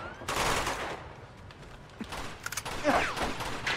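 Automatic rifle gunfire in Uncharted 2, bursts of shots with clattering mechanical noise and scattered impacts over a busy background.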